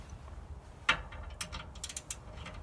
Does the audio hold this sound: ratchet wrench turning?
yes